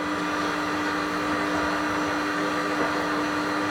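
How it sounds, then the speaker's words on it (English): An electric mixer whirs steadily and continuously while beating batter for a jaconde sheet, a constant close motor drone with a faint tonal hum and no talk. "the mixer will actually do a lot of the work for you"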